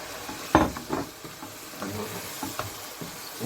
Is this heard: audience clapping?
no